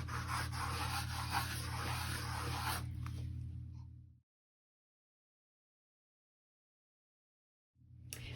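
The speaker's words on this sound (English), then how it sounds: "I'm just going to take a damp rag. I'm just going to rub over the graphic" A damp cloth rubs and scrubs paper off a surface in close, steady strokes for about four seconds, then silence, then the rubbing briefly resumes.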